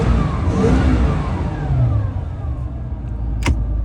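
A 2003 Bayliner 215 Bowrider's MerCruiser engine runs at a steady RPM, a loud, close, even motor drone that holds without revving up or down.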